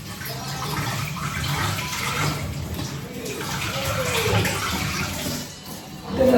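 Fresh okra is rinsed under a running tap, a steady close splashing and gushing of water throughout, with a voice heard faintly under it.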